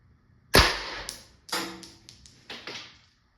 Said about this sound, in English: when I said double loaded, that was a double shot